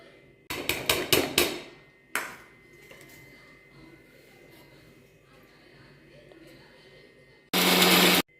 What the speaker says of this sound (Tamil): இது மூணையும் கொஞ்சமாக தண்ணி ஊற்றி அரைச்சிக்கலாம்